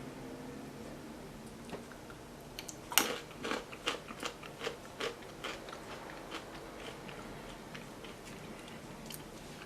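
Someone eats crunchy snack clusters of grouped peanuts, giving a run of close, sharp crunching bites in quick irregular bursts against a quiet room, with no talking.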